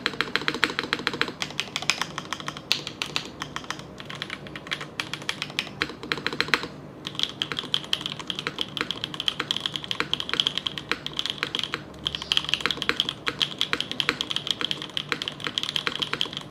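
Fast, steady typing on a Neo75 CU custom 75% mechanical keyboard with a brass bottom case and no foam, a dense run of close, crisp keystroke clacks with a brief pause midway.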